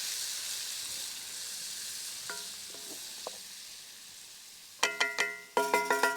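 Onions sizzling in a pan while cooking at a truck campsite: a steady, close frying hiss, with a few light metallic clinks midway and then a series of ringing utensil clanks against the pan near the end.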